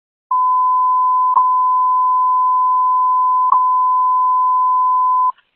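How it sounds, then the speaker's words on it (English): A continuous steady electronic emergency alert tone on fire radio at an apartment fire holds for about five seconds, broken by two brief clicks, loud and alone. "Sound emergency tones"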